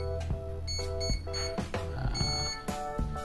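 A speed controller on an RC catamaran boat emits a series of sharp electronic beeps in an irregular sequence as it connects, fairly quiet and close, with no talking.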